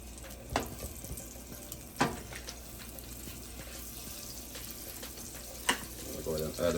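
Vegan butter melting and cooking in a pan for a Jamaican patty filling gives a soft, steady sizzle with a few sharp clatters of utensils, fairly quiet with no talking.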